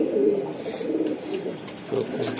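Racing pigeons at a loft farm coo in soft, repeated low murmurs close by, with a brief louder burst near the end and faint background noise.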